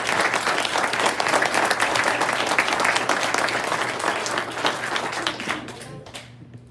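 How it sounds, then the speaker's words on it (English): An audience at a city council meeting in Des Moines applauds steadily in a loud, dense burst of clapping that carries on for several seconds before thinning out near the end. "Round of applause for Mike Twain."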